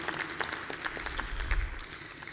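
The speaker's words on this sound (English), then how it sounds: "Shall we please give another celebration applause to all those who are playing a role in making the TFCA thrive." A conference audience applauds during the opening ceremony of the SADC TFCA International Conference at Rainbow Towers, a dense, even wash of clapping from a large hall crowd with a low rumble underneath, no speech.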